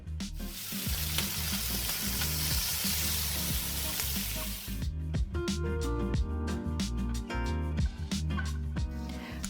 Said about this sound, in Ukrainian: починають готувати з обжарювання свиних реберець на пательні, на чарі, а в моєму случаї в таджині